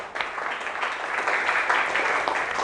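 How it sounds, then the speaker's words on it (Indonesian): Applause from a classroom of students for a presenting group, a dense, steady patter of clapping filling the room from start to finish. "Tepuk tangan untuk kelompok 2."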